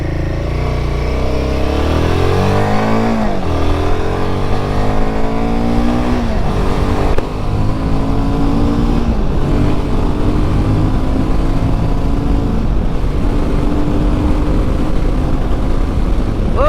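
A Royal Enfield Himalayan 450 motorcycle accelerates hard, its engine revving up through rising pitch sweeps with gear changes between them, loud and close, holding a strong drone throughout.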